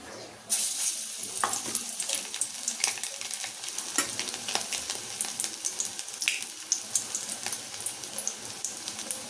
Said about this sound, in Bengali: এইরকমভাবে আপনারা ডিমের পকোড়া ভেজে নেবেন